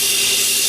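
Someone lightly grinds the flat face of a small metal part with a handheld grinder, a steady, hissing abrasive whir that continues without a break.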